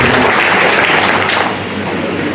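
Sustained, dense applause from an audience honouring the Prime Minister at a public event on the Ayushman Bharat health card scheme, loud and steady throughout before easing slightly toward the end.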